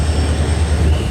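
A DEMU diesel-electric train on the Chitradurga to Hubballi line accelerates with a steady, loud, low engine drone and rumble, heard close and alone for about a second.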